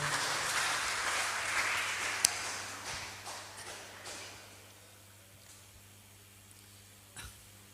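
Applause from a church congregation, a soft wash of many hands clapping that fades gradually over several seconds, followed by a few faint isolated taps near the end.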